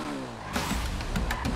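Motorcycle engine in the game GTA 5, revving and surging with a broad roar that swells partway through and stays loud and close, with brief sharper bursts near the end.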